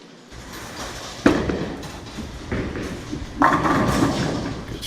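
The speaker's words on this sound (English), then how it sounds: "Shot there by Drew, shredding that rack on the right-hand lane" Bowling ball striking and scattering a full rack of pins on the right-hand lane of a bowling alley during a televised match, a sharp crash followed by rattling pin clatter amid noisy hall ambience.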